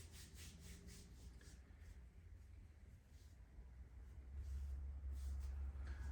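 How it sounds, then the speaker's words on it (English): Steady, soft rubbing of hands over bare feet during a seated chair yoga session, a quiet continuous friction with a low hum that rises toward the end and no talking. "you can go back to the feet, just give them a rub"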